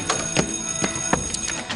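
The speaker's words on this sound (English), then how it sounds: "that was the second bell. You're late for class" A school bell rings for class, sounding as a steady metallic ringing with repeated bright strikes at a fairly close, moderate level and no talking.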